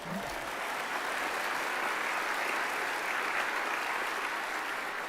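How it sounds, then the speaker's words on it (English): A large arena crowd applauds at a military induction ceremony, a dense steady roar of clapping held at even loudness from start to finish. "That's worth a round of applause."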